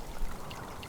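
Water pouring and trickling onto plants in the survival game Subsistence, a soft steady stream running for about a second at low volume with no talk.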